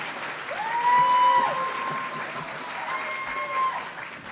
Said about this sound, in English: Please stand for a moment so that we can give you all a round of applause